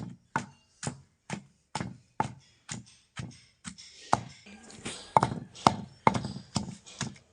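Onions for a coriander chutney are pounded finely in a kundi with a wooden pestle, a run of about fourteen sharp, evenly spaced thuds, close and fairly loud, quickening near the end, with no talk.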